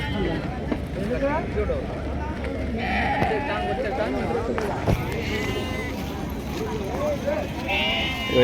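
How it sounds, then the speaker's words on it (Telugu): Sheep bleat repeatedly across a busy Sunday sheep market, the calls rising over a steady hubbub of crowd chatter and people talking nearby. "గొర్రెల అంగడి సంత."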